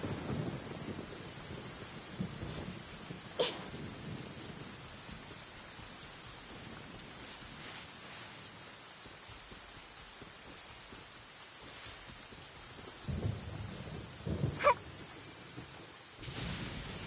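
Rain hisses steadily in Genshin Impact, with occasional low rumbles of thunder rolling in, a couple of them louder toward the end.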